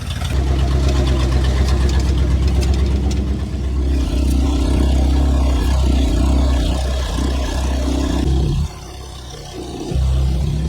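A Dodge Adventurer 4x4 truck, revived after sitting unused for ten years, runs with a close, rough, steady idle and brief swells in engine speed.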